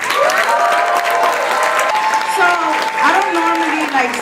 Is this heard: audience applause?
yes